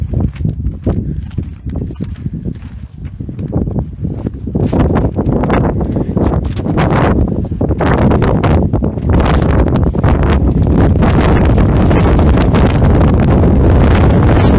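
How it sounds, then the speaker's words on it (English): Strong gusting wind buffets the microphone continuously outdoors in the Fort Rock Valley of Oregon, a loud rumbling roar with crackling bursts throughout and no voices. "Very windy today, isn't it?"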